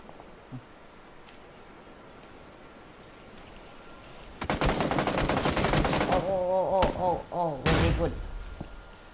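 Rapid bursts of PUBG video game gunfire erupt after a quiet start, loud and dense, with a few electronic warbling tones mixed into the final seconds.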